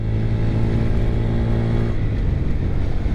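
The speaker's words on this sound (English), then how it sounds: "just shifting through the gears right now, being in the high revs" A 2022 Honda Grom motorcycle engine revs high and loud while being shifted through its five gears, a steady close buzzing drone that drops in pitch and breaks up near the end as the next gear engages; no voices.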